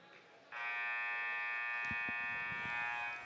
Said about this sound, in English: As the buzzer sounds, we get ready for second quarter action